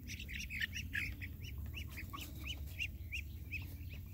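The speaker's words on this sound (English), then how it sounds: "People watch the ducks get the liver there." Ducks feed on liver, giving repeated squawks and quacks over a low rumbling background, faint and fairly distant, with no talking.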